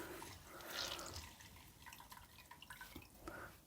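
Water drips and trickles from squeezed sponges for a native bee feeder, a soft, close run of small irregular drips and splashes that keeps up throughout.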